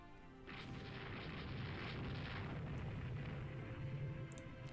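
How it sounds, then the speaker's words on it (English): Naval gunfire aimed at an already destroyed battleship in Rule the Waves 2: a low rumbling barrage of distant booms, fairly faint and continuous, with no speech over it. "somebody's still shooting one of those destroyed battleships"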